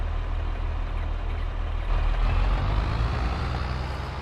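Steady low drone of a tractor engine in Farming Simulator 22, close and continuous with a slight swell midway, no voices over it.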